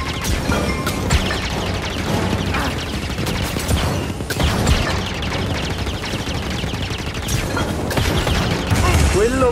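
Rapid blaster fire and crashing impacts in the video game Star Wars Jedi Fallen Order, dense overlapping bursts with game voices speaking over the combat.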